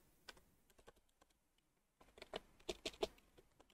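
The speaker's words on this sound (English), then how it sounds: "let's type on page 3" Keys tapped on a computer keyboard, a scattered run of light clicks that pauses briefly and then picks up into a quicker, louder burst of keystrokes, heard close and quiet with no talk.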